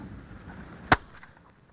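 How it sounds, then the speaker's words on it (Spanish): A single hunting shotgun shot fired at a clay target, a sharp loud crack standing out alone against faint outdoor background. "he realizado mi disparo aproximadamente unos 80 centímetros por delante del plato"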